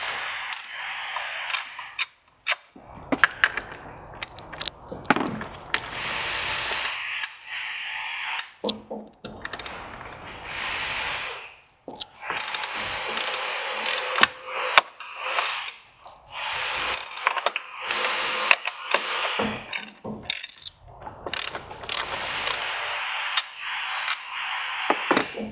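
A ratchet wrench cracking loose the 13 mm strut top bolts on a VW MK7 GTI during a coilover install, heard as repeated bursts of sharp metallic clicking and ratcheting up close, separated by short pauses and small knocks.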